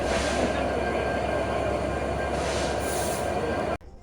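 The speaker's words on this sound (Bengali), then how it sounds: "এটি একটি ডিজেল ইলেকট্রিক লোকোমোটিভ" A diesel-electric locomotive of the 6630 series heads the Rupsha Express intercity train, giving a loud, steady rumble of engine and rolling wagons that carries on without a break, then cuts off abruptly near the end.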